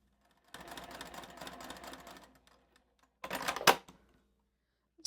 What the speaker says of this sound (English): So I'm just sewing straight on top of that line, coming right off the edge